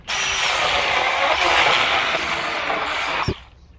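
A power saw cuts through wood outdoors with a loud, steady, buzzing roar lasting about three seconds, then stops sharply and fades into quiet.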